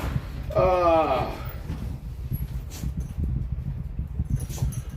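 A dog whimpers and whines near the start, a short run of rising high-pitched cries, followed by low background rumble and indistinct talk in a home workshop with RC cars.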